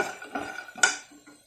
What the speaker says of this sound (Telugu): డ్రైగా పల్లీలు వేయించుకోవాలండి